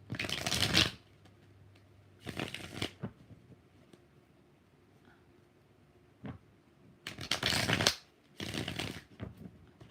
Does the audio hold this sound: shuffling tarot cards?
yes